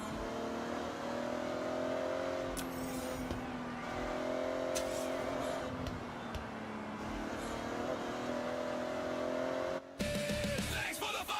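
A Toyota Supra driving in Forza Horizon 6, its engine droning and revving in steady waves with rising and falling pitch, loud and continuous, with a brief cut near the end.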